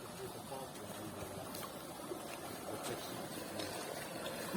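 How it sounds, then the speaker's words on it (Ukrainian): Water trickles in a quiet, continuous flow, a faint outdoor burble that stays low and even throughout. "А це вже з цієї тут водичка тече."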